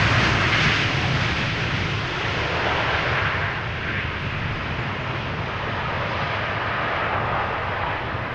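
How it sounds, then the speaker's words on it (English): Boeing 777-200 jet arriving at Amsterdam Schiphol from New York JFK: a loud, broad engine roar that starts strongest and eases slightly as the aircraft passes, a continuous rumble and hiss with no talk. "777-200 arriving from New York,"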